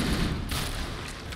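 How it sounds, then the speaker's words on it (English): A Flood carrier form bursting apart in the Halo video game, a loud, dense blast with a sharp onset that spreads into a rumbling, crackling tail lasting over a second. "That explosion is also not weak. That is comparable to a grenade."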